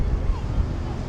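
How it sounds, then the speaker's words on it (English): Gusty wind buffets the microphone with low, rumbling thumps, a brief burst of blustery noise with no clear speech. "It's a bit windy, so I'm sorry about the noise"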